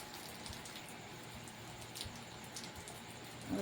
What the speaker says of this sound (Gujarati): હવે વરસાદ ધીમો થઈ ગયો